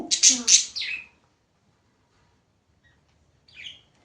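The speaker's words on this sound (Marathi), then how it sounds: "आणि या नवीन पक्षीचं चिव. चिव." A pet lovebird kept at home gives a few sharp chirps close by, a quick cluster at the start, then silence and one fainter chirp near the end.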